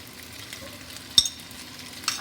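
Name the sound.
stirring black pepper chicken in a pan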